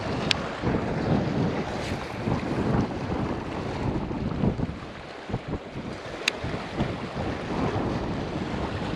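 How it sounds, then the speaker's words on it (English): Steady wind gusts buffet the microphone on a boat out on Lake Mohave during a bass fishing trip, a continuous broadband rush with faint water sounds and no talking. "The wind might definitely be a factor today."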